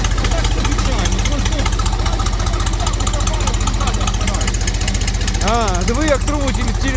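A Xingtai 24-horsepower tractor engine idling roughly and shaking heavily, a loud rapid steady thudding pulse up close, with someone talking over it.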